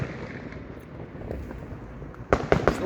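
Fireworks go off in a string of sharp cracks and bangs near the end, preceded by a low, windy rumble and distant pops.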